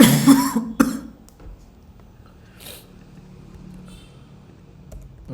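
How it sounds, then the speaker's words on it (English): A few sharp coughs burst out close up at the start, then the room falls quiet apart from a faint low hum. "I'm sorry for coughing, I have a disease."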